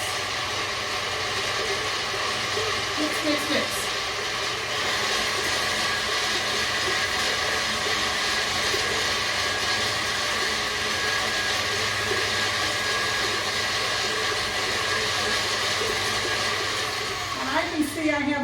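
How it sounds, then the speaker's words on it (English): A stand mixer running steadily as it beats challah dough with whole eggs, a loud continuous motor whir with mechanical hum throughout, a few faint clinks near the start and a brief knock near the end. "This goes into the mixer. And we're going to mix."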